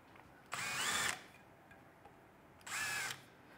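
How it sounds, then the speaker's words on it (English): Two short bursts of a slightly larger drill bit whirring at high speed, deburring a tapped hole, each about half a second long, separated by a quiet pause; close and clear with no talking. "I'm just gonna be using a slightly larger drill."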